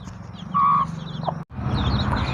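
A mother hen of a native Kerala breed, with her chicks, gives a loud close cluck followed by softer chirping calls over quiet farmyard background.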